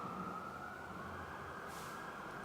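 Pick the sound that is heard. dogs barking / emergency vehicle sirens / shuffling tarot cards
emergency vehicle sirens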